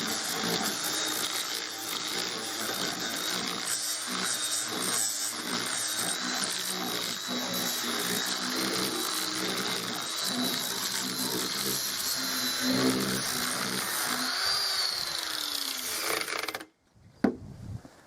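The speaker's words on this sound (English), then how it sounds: "I'm just going to go over the top of the bench with a flat wheel and an angle grinder just to level" An angle grinder fitted with a flat wheel levels lumps and bumps on top of a wooden outdoor bench, giving a loud, continuous abrasive grinding that lasts about sixteen seconds before stopping abruptly.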